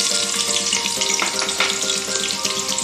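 Two onions and a bay leaf frying in hot oil for rajma curry, giving a steady, dense sizzle with crackling pops throughout and no talking.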